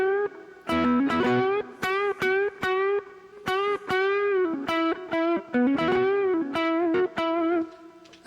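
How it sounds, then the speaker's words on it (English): An electric guitar plays a blues lick of distorted notes, repeatedly bending between the minor and major third in slide-like glides, clear and solo with short rhythmic phrases and gaps. "It's almost like mimicking the sound of a slide guitar too"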